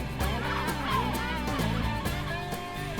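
A small bird screeches while defending its young from polar bears in the Arctic, giving repeated harsh, pitched calls in quick succession, loud and close, over a dense, steady background.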